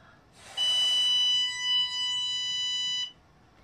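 An Our K9 Garnet bark collar emits a single sustained electronic beep, a clean high tone lasting about two and a half seconds, preceded by a soft puff of air, in a quiet room.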